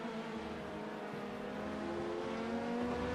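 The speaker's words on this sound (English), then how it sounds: "There's a faster class car approaching." Race car engines drone steadily in an iRacing sim endurance race at Sebring, with a faster-class prototype car closing in; the motor note holds loud and even throughout, with a slight swell near the end.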